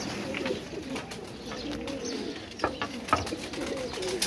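A loft of flight pigeons gives a steady low cooing chorus at close range, with scattered clicks and scuffs of movement breaking in toward the end.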